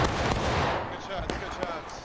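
A musket volley from a line of soldiers in War of Rights, Civil War setting: a loud ragged crackle of shots fired almost together, then a fading rumble with a few scattered late pops and voices nearby.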